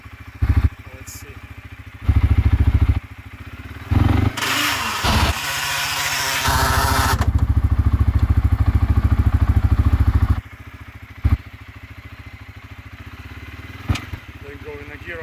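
CFMOTO CFORCE 400S ATV in low range, two-wheel drive, churns through wet snow, its engine surging loudly in bursts with a long sustained run in the middle, wheels spinning, with a voice talking between.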